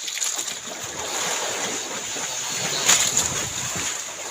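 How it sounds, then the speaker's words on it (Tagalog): Rough, choppy sea waves slosh and splash around a small boat, a steady broadband wash with wind, swelling into a sharper splash near the end. "Sobrang galaw naman ang alon."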